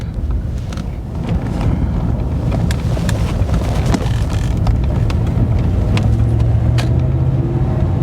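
A 1991 Cadillac Brougham with 46K original miles drives and accelerates, its engine rumble steady and building beneath strong wind and road noise, heard from inside the car.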